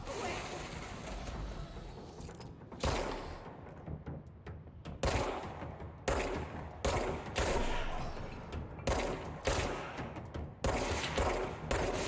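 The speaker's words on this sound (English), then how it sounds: "Look at my shooting with a controller." Video game gunfire in bursts: rapid automatic volleys and single shots crack out in repeated clusters with short pauses between them, fairly loud, over a faint in-game background.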